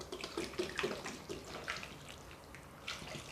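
Water pours and splashes into a container of slushie flavoring powder, a soft running trickle that continues steadily at close range.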